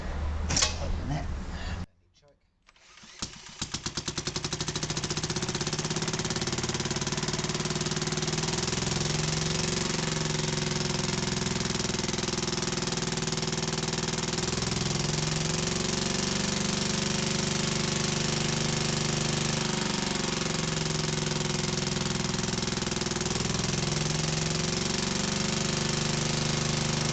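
A Barford Atom roller engine starts after a brief pause and settles into a steady, loud, rhythmic idle that continues unbroken with a regular thumping beat.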